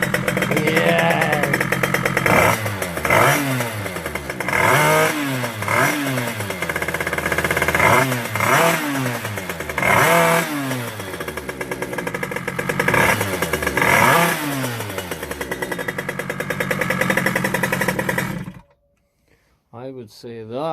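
A Polini GP3 Italian race motorcycle engine starts and revs hard in repeated rising and falling bursts, loud and close, before cutting out abruptly near the end.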